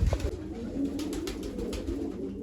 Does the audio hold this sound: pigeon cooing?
yes